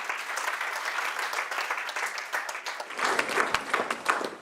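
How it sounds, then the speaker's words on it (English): An audience at a national climate dialogue event gives a round of applause, continuous clapping that grows sharper and more pronounced toward the end. "Please give them a round of applause,"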